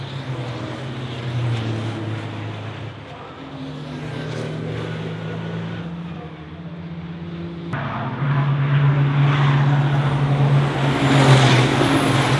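Racing trucks at Brands Hatch set off again from the grid after a red-flag stoppage, a steady, layered engine drone that swells louder partway through as the pack gets underway, with no talk.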